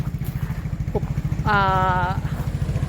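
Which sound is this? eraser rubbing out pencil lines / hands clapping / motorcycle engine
motorcycle engine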